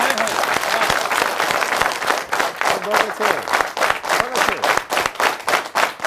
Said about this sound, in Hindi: बेटियों के लिए एक बार हाथ खड़े करके जोरदार तालियां बजाएं आप